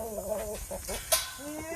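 Chickens at a rescue henhouse clucking in short, close bursts, with someone talking softly over them.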